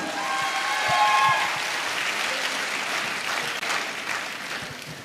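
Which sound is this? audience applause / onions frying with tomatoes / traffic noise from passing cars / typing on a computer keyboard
audience applause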